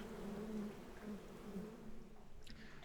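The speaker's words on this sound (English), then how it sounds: "So many wasps in here." Wasps buzzing close by, a continuous low droning hum that wavers in pitch, with a faint brief rustle near the end and no voices.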